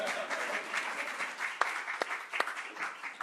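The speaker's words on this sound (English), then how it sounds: "you guys can clap for that" An audience claps through the whole stretch at a community panel on city services for children and families, steady and moderate, with a few sharper, louder claps standing out near the end.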